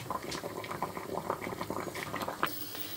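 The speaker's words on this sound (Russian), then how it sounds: "Раствор у меня закипел." Pickling brine boils in a pot for cucumber preserving, with a soft, steady bubbling and popping heard up close at low volume, no one speaking.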